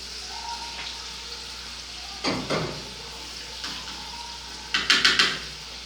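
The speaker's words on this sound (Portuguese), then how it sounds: "vou dourar agora o alho. Eu gosto de dourar o alho na frigideira" Garlic frying in a skillet, a steady soft sizzle under occasional metallic clinks and scrapes of a utensil against the pan, with a quick run of knocks toward the end; no talking.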